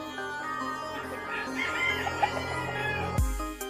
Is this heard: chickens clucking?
yes